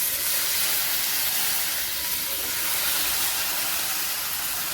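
Cooked dal poured into a hot tempering seasoned with red chili powder and ambari masala hisses and sizzles loudly, a dense steady steam-like hiss that holds for the whole stretch without talk.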